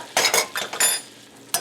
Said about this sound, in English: here I'm just making a roux of some melted butter and a couple of spoons of flour